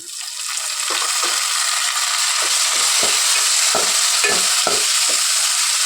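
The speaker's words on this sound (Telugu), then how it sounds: "ఇప్పుడు ఇందులో కట్ చేసి పెట్టుకున్న 4 సన్న టమాటాలను వేసుకోవాలి" Four sliced tomatoes go into a pan of frying potato and brinjal curry, Muslim style, setting off a loud, steady sizzle broken by intermittent scraping and stirring clicks.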